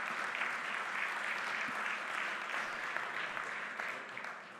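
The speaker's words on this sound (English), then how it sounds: "So a little round of applause for the panel." A roomful of people applauds a panel at a marina markets conference, with even, continuous clapping that tapers slightly near the end.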